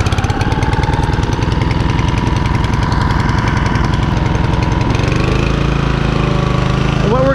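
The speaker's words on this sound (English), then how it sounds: "I'm going to put a choke and start it up." A lawn mower engine with choke applied runs loud and close with a rapid, steady chugging rhythm that shifts in pitch partway through as the throttle changes.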